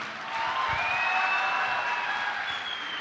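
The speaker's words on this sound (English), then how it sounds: "Once again, round of applause," Audience applause at a conversation event featuring Anil Kumble and Anju Bobby George, a moderate burst of crowd clapping that swells, holds and tapers over about three seconds, with faint tonal sounds over it.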